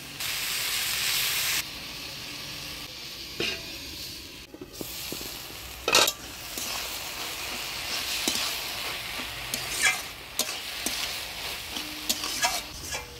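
Water spinach (kalmi shak) with turmeric and salt hisses and sizzles steadily in a pan with a little water, broken by occasional sharp scrapes and clinks of stirring, close and moderately loud with no talk.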